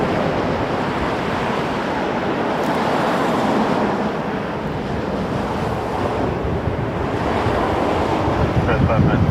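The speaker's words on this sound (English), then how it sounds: "crosswind happening today," Strong crosswind roars across an airport, buffeting the microphone in a broad, continuous rushing gust that swells and eases, with no aircraft standing out clearly.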